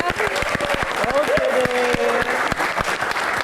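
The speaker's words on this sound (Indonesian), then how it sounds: "kita berikan tepuk tangan untuk bintang tamu kita" A studio audience at an Indonesian Q&A talk show applauds a guest star with loud, sharp clapping, while a speaking voice and a brief melodic tone sit beneath the claps.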